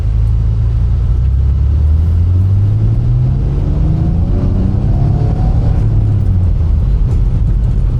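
Nissan Stagea 260RS on the road, a steady loud engine rumble with low rising tones as it accelerates through gears, constant and close throughout.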